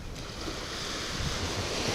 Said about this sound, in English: The soft waves hitting the sand.